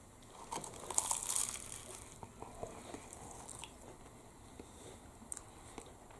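Biting and chewing into a hot, flaky steak bridie pastry full of meat from a Burntisland, Scotland bakery, with soft close crunching and crinkling early on, then quieter intermittent chewing.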